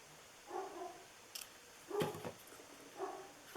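A small dog barks indoors, three short separate bursts spaced about a second apart, fairly faint, with a quick snip of scissors between them.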